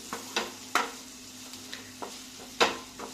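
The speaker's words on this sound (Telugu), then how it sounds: "సో అలా ఫ్రై చేసుకోవాలన్నమాట." Ginger garlic paste frying for a corn soup, stirred with a utensil that makes several sharp scraping clinks against the pan over a faint steady sizzle.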